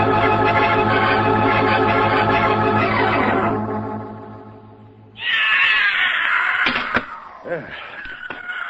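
An angry one-eyed cat yowls in long, loud, wavering caterwauls, first a sustained cry that fades, then a fresh burst of screeching with sharp knocks or thumps nearby.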